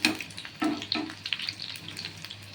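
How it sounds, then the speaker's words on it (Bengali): Cauliflower pieces frying in hot oil for chilli cauliflower, freshly turned in the pan, give a steady soft crackle with a few louder sputtering bursts near the start. "লাল লাল করে ভেজে নেব"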